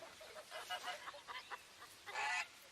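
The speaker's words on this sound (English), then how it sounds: "The goose is Carlos" A goose honks in a short series of nasal calls at middle distance, ending with a louder, harsher honk.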